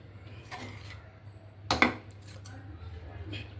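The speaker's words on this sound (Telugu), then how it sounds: "ఇలా బాగా కలుపుకోవాలండి" Beetroot and carrot rice is mixed in a pan, with a few soft scraping and clinking spoon strokes against metal, one sharper knock midway, close and quiet over low background hum.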